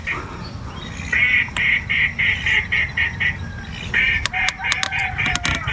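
A duck quacks in a quick repeated series, fairly near, outdoors during a hunt, followed by a few sharp clicks and more quacking.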